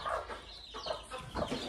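Hens and young chicks cluck and cheep close by at a mini zoo farm, with steady overlapping bird calls running through the whole moment and no talking.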